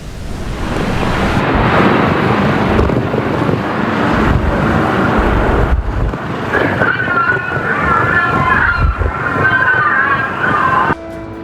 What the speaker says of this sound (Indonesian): Fenomena angin lodos yang bertiup kencang memicu badai dahsyat